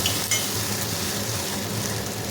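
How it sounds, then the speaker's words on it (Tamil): A ground rasam paste of coriander, tomato and garlic is stirred in a cooking pot, giving a steady, close scraping and sizzling sound that runs continuously without pause. "தனியா தக்காளி பூண்டு அதெல்லாம் போட்டு அரைச்சி வச்ச பேஸ்ட்டு நல்லா போட்டு அடி பிடிக்காமல் மிக்ஸ் பண்ணி விட்டுக்கோங்க"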